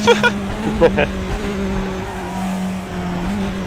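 A Mazda MX-5 race car in a racing video game holds a steady engine drone with tyre squeal, while players talk briefly over it at the start.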